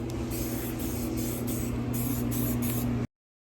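Primer sprayed from a can onto textured plastic in a light, semi-wet coat, giving a steady loud hiss with slight pulsing that runs about three seconds and then cuts off abruptly.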